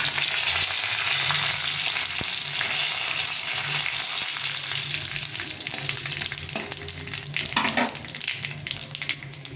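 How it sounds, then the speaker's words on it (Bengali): Bay leaf, cumin seeds, dried chilli and whole garam masala sizzle loudly in hot oil for a cauliflower dish, a steady broad crackle with a few sharp pops and the scrape of stirring, no talk. "তেলটা গরম হয়ে গেছে এখানে তেজপাতা সাদা জিরে শুকনো লঙ্কা আর গোটা গরম মশলা নিয়েছি এটা দিয়ে দিলাম"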